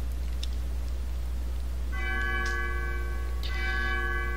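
Church bells in the Undertale video game ring out in a steady chime from about the midpoint, with two struck peals layered over a constant low hum.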